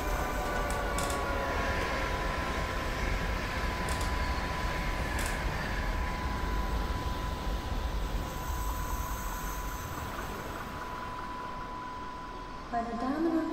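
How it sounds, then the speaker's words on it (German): A train rumbles through a station in the Train Sim World 2022 simulator, a steady broad rolling roar with a faint high whine that holds throughout, heard up close and continuous. "Da fährt der Zug durch, der angekündigt wurde."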